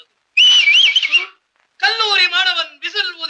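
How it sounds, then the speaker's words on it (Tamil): A college student whistles in wavering, warbling bursts, loud and close, with a pause between them. "கல்லூரி மாணவன் விசில் ஊதுகிறான்"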